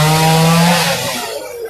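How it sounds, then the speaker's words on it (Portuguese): Chainsaw cutting a fallen tree apart on a city avenue, a loud steady buzzing drone that holds strong for under a second, then fades into softer rasping noise. "As pessoas, né, que estão ali cortando a árvore, vão cortar pedacinho, pedacinho"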